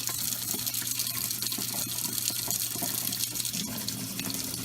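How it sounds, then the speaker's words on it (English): Hot tap water gushes steadily from a kitchen faucet into a pot set beside jars for oven-made yogurt, a continuous close, full-band rushing with a faint low hum underneath and no voices. "fill up my pot here next to my jars"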